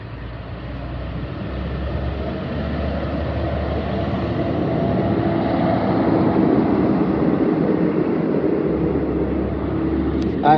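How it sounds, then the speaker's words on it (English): Steady low rumbling machinery and engine noise drones on throughout, swelling slightly in the middle, like heavy equipment working nearby. "I apologize for the back noise. We have a lot of construction going on here."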